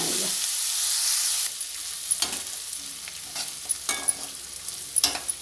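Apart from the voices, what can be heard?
onions frying on a low flame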